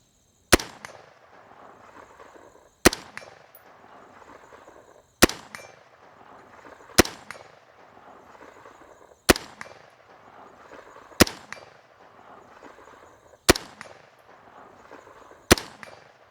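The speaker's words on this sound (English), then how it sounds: "Definitely able to take out that hostage taker at 100 yards on that Challenge Steel hostage taker target." Rifle shots ring out on a Challenge Steel hostage taker steel target at 100 yards, eight sharp cracks evenly spaced about two seconds apart, each followed by a brief metallic ring and echo, with no talking.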